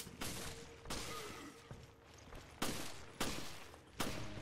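Gunfire in the survival horror game Resident Evil: Revelations, several loud close shots ringing out at uneven intervals over a low rumbling game ambience.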